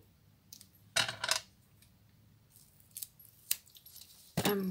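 Special craft scissors snip through card stock, a handful of sharp, separate cuts and clicks spaced irregularly, close up against a quiet background with no talking.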